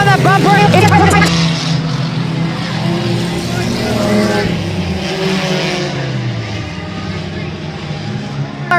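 Eco stock race cars run bumper to bumper out of a turn in a feature race, their engines droning and sliding in pitch with a brief tire squeal, while an announcer commentates over the loud, steady roar.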